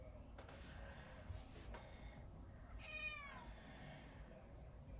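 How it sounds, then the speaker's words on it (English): A cat outdoors near the Mount of Olives gives one faint, drawn-out meow against quiet background ambience, with a few soft knocks before it. "there's a cat"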